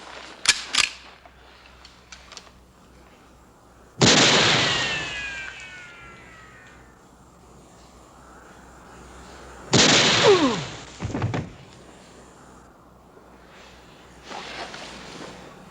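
Gunshots ring out in a cowboy western movie, with sharp single reports followed by long ricochet whines and echoing tails, spaced several seconds apart over a low steady background.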